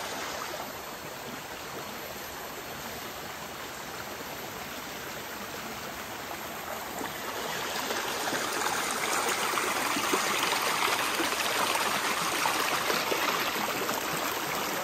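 Small forest river flowing steadily, a broad even rush of water that swells somewhat louder partway through, with no voices over it.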